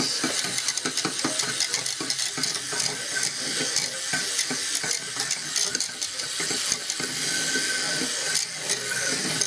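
A sunflower oil mixture whisked briskly in a bowl, a steady fast rattling stir with rapid clinks throughout, close and continuous with no voices.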